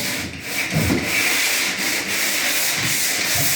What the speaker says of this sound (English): even where there are no touch-ups, I'm going to go ahead and sand that too